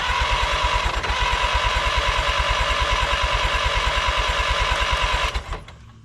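A Minneapolis Moline 335 tractor engine is cranked over in steady, rapid chugging pulses for about five seconds. It is loud and close, then stops abruptly.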